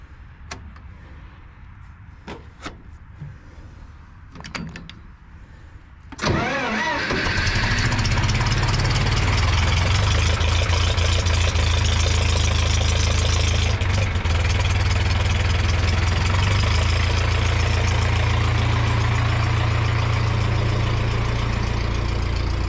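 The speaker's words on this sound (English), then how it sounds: "I'm going to start the 2510 and then I'll go and start the Ford" A John Deere 2510 tractor engine cranks and catches on a cold morning, then settles into a steady, loud idle. An unnamed Ford tractor is to be started after it. Faint clicks come first, and the running engine then continues unbroken.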